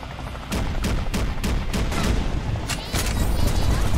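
Dense gunfire in the video game Dead or School, repeated sharp shots in rapid bursts, loud and close, continuing throughout with no talk.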